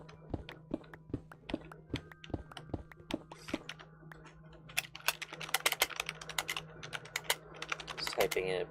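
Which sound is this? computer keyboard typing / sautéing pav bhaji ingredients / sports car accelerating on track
computer keyboard typing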